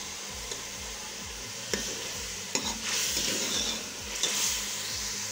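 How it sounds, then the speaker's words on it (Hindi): Ginger garlic paste frying in a pan, with a continuous close sizzle and hiss while a spoon scrapes and stirs in regular strokes, with a few sharper clinks against the pan. "अब मैंने इसके अंदर शामिल कर दिया है अदरक लहसुन का पेस्ट। इसको 1 से 2 मिनट के लिए अच्छे तरीके से हम फ्राई कर लेंगे।"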